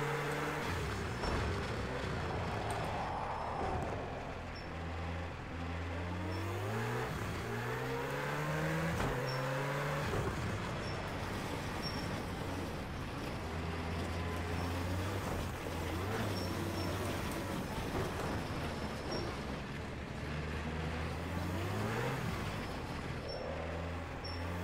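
Rallycross car engine from Project Cars 2, droning steadily close up, with the pitch rising and falling through gear changes and a sharp drop under braking, alone for nearly twenty-five seconds.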